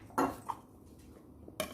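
Potatoes tossed with extra virgin olive oil, salt and pepper in a bowl, with a few clinks and scrapes of utensils against the dish, quiet and close, spaced out with pauses between.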